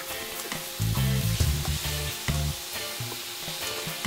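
Steak and vegetables stir-frying in a hot pan, a loud crackling sizzle with rhythmic bursts as the food is tossed and stirred, no voices.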